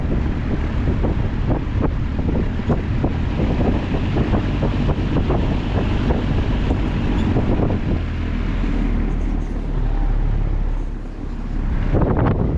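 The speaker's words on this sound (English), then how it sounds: "really hear that blade chop in the air." An old box fan turns slowly on low speed, its blades chopping the air in a steady, rhythmic whoosh, heavy with close wind rumble on the microphone and no talk.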